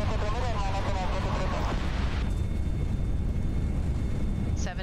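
Engine roar of an A320 in the FSLabs flight simulator on landing, loud broadband rumble with reverse thrust and braking after touchdown, tapering into a steady hum with a faint tone near the end.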